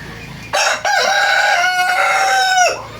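A rooster crows loudly and close by, one long drawn-out call, with a brief cluck just before it.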